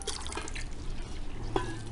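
Room-temperature water is poured into a container holding a liquid soap base, a close trickle and splash with a few drips.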